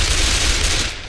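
Gunfire rattles nonstop in the Left 4 Dead 2 video game: a loud, dense burst of rapid shots fills the whole brief moment, with no voices over it.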